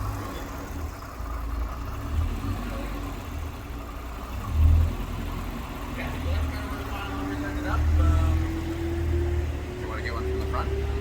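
A Corvette C6 ZR1 with stock exhaust runs on dyno rollers, its engine rumbling steadily and then rising in pitch as revs climb, loud and nearby, with people talking over it.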